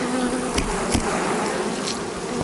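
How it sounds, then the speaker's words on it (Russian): A dense, continuous buzz of many honey bees close by, steady and loud throughout with no talking. "Сейчас мы стряхнем пчелок."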